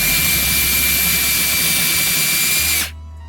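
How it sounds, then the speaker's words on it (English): A power drill boring pilot holes in the panel of an outdoor shower door, a loud, close, continuous whine that cuts off sharply near the end. "I'm gonna cut this first starter hole into each of the corners"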